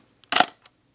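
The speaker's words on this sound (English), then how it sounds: "let's do a comparison of the shutter sounds." A film camera's shutter fires once with a sharp, close mechanical snap. Faint tiny clicks come just before and after it.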